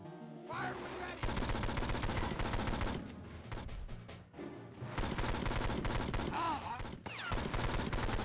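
Enemy gunfire in 007: Nightfire on the Game Boy Advance blasts in dense, continuous rattling bursts with brief gaps, loud and close, with game music and effects underneath.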